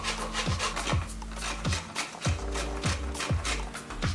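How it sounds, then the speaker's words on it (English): Dried cassava scraped against a grater for a hake fillet crust, a steady rasping rhythm of about two strokes per second, close and fairly loud with no talking. "we're going to coat the hake fillets in this dried cassava. So I'm just going to grate this"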